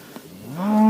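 A cow on an Angus beef farm lets out a single deep moo that rises in pitch and grows louder, preceded by quiet barnyard background.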